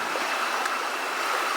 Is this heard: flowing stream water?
yes